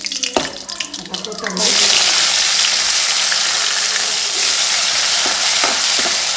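Cumin seeds and asafoetida hit hot oil for a tempering, bursting into a loud, steady sizzle that fills the kitchen after a few brief clinks at the start.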